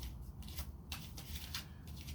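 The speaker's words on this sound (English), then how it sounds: "there's 78 cards in this deck. And you saw me shuffle." A deck of 78 cards being shuffled at close range, giving soft riffling bursts that repeat in quick succession over a low background hum, with no voices.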